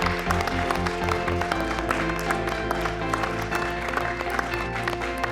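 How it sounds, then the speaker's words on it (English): Applause from contestants in a cooking-show kitchen runs continuously, layered with music and a steady low hum, fairly loud and close. "keep the applause going"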